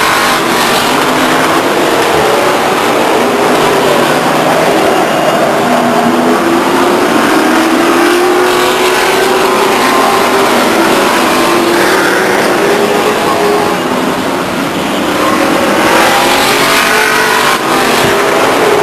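Race cars roar around the oval at Stockton 99 Speedway in a 2000 race, a loud continuous pack of engines with rising and falling pitch as they pass, no pause throughout.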